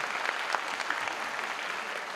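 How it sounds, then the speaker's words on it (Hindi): A short burst of audience applause at a film festival master class in Bhopal, steady and fairly faint, with a room full of scattered claps. "आप लोग इसके लिए अपने लिए ताली बजा सकते हैं"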